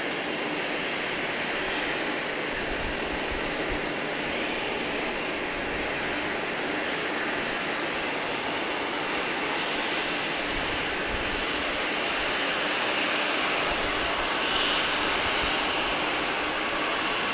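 A Boeing 777 jet at Grand Cayman airport gives a steady, loud, broadband engine roar that holds constant throughout, with no breaks and no talk.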